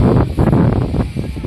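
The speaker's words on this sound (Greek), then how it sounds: "εδώ φυσάει κιόλας" Wind gusts outdoors near a burning wildfire, a loud, blustery rumble buffeting the microphone in uneven surges, with no one speaking.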